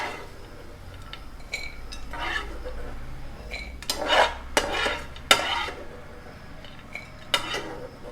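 A spoon scrapes and clinks in a pan as a post-delivery mix roasts in ghee, with irregular stirring strokes and soft metallic knocks close by, plus faint sizzling underneath.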